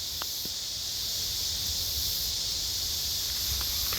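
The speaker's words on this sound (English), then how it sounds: "That's right, the cicada." Outdoors in gusty wind, cicadas give a steady, high, dense buzz that holds without a break, with faint rustling underneath and no talking.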